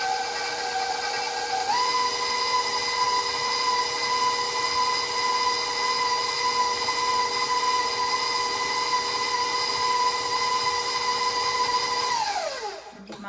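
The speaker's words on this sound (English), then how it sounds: "And we're going to turn the mixer back on. We're going to cream that together for a minute or so." An electric stand mixer creams white sugar together in a bowl, a loud, steady whine that holds at one pitch, steps up early on, then winds down at the end, with no talking.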